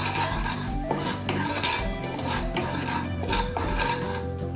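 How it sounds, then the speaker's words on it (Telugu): A spoon scrapes and clinks against a metal pan while chili powder, turmeric and masalas are stirred into melted butter, repeated close stirring strokes over a faint sizzle with no talk. "అండ్ ఇందులో కొంచెం కారం, కొంచెం పసుపు, అండ్ ఈ మసాలాస్ బటర్తో బాగా మిక్స్ అవ్వాలి."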